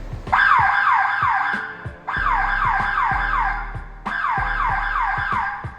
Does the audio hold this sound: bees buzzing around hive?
no